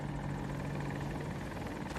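A helicopter in Battlefield 2042 gameplay drones steadily throughout, with rotor chop pulsing in a fast, even rhythm over a dense engine roar that stays loud and close.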